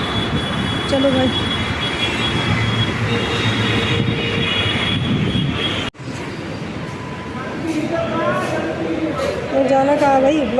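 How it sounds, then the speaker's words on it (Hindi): A metro train at a metro station rumbles and rolls in with a steady roar and squealing wheels while people talk nearby. "ये है मेट्रो स्टेशन, आ गए हम।"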